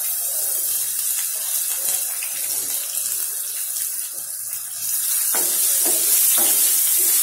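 Chilies, garlic cloves and grated ginger sauté in a pan for a cabbage and chana dal dish, giving a steady close sizzle with scattered stirring knocks that swell louder near the end.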